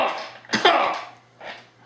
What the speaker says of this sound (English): I try to get that cough looked at.